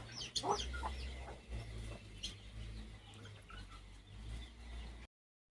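Chickens cluck and chirp near eggs and chicks, soft close-up calls scattered over a quiet farmyard background, with a few sharper clucks early on before it cuts to silence.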